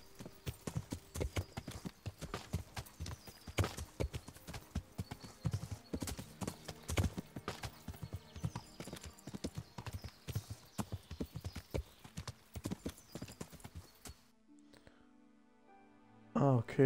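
Steady clip-clop of horse hooves as a rider travels through the medieval world of Kingdom Come Deliverance, a brisk close rhythm of hoofbeats lasting most of the stretch before stopping near the end, with a quieter tail.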